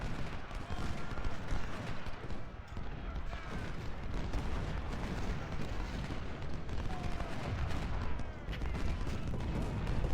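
Musket volleys and artillery fire in the Civil War strategy game Ultimate General at the Battle of Cedar Mountain, a dense continuous crackle of rifle fire with rumbling booms underneath, sustained throughout.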